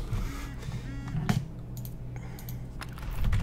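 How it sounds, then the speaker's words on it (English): Typing on a computer keyboard during a Project Spark creation stream: quick, light key clicks scattered over a few seconds, close and moderately loud over a low background hum. "It's like I've got Zach typing for me."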